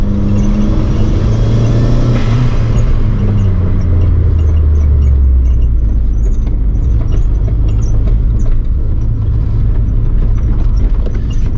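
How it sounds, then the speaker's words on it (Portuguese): A noisy Chevrolet Celta rumbles loudly while driving at night, its engine note rising under acceleration and then settling into a steady drone with rattles and road noise, heard close up from inside the car. "Parece que esse carro é cheio de barulho."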